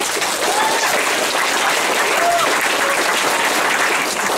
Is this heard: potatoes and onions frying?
no